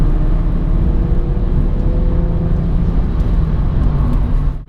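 A BMW M135i on a lap of the Nurburgring on a damp, dewy morning, heard from inside as a loud, continuous low rumble of engine and road noise that drops away abruptly at the end.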